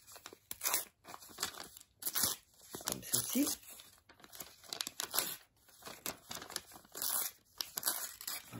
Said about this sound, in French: On prend le morceau de papier et on va couper les bords.